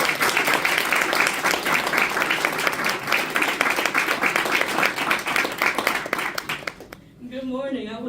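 An audience applauds warmly for several seconds to welcome a speaker onstage, the clapping dense and sustained before fading into a voice speaking.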